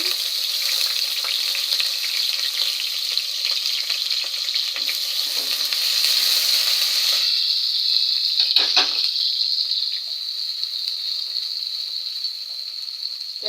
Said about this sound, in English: Once the oil is ready, you're going to add the onions.